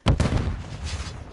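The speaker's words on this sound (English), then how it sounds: "Throwing a stun grenade!" A stun grenade bursts in a video game, a loud close double bang followed by a short reverberant tail.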